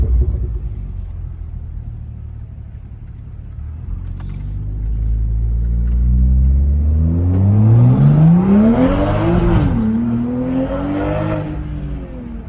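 A Toyota Supra fitted with a 5-inch downpipe revs up from a low idle rumble into a loud, rising engine roar with a sharp climb and brief dip, held close and alone with no talk.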